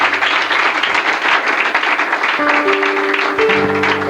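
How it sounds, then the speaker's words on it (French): A church congregation at a conference applauds loudly and continuously, a dense wash of many hands clapping close by, with faint sustained organ or keyboard tones rising near the end. "on l'acclame très fort pour le Seigneur"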